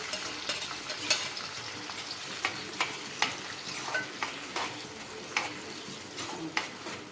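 A home-made gravy of onion, garlic, ginger and tomato sizzles in a pan, with a spoon scraping through it in regular strokes roughly every half second, near and clear.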